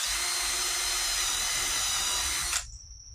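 A power drill bores holes into a wooden garage door frame, giving a loud, sustained high-pitched whine that cuts off abruptly near the end, leaving a fading tone.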